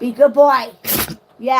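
A dog gives a single sharp, breathy sneeze in close range, set between stretches of a person talking to it.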